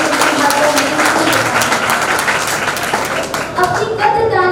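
Loud, dense applause from an audience at a stage performance, a continuous wash of many clapping hands, while a voice runs underneath.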